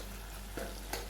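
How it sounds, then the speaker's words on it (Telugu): Masala brinjal curry with salt is stirred in a pan, giving two brief, faint scraping strokes over a quiet background. "అలానే ఉప్పు వేసుకొని ఒకసారి కలిపేసుకోవాలి"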